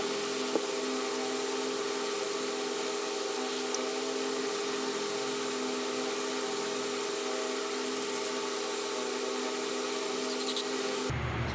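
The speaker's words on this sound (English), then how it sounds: "Pop that out and put some carb cleaner, blow that out." Carb cleaner blasted through the ports of a golf cart carburetor: a steady, close, unbroken hiss with a faint underlying hum that runs for about eleven seconds, then cuts off abruptly.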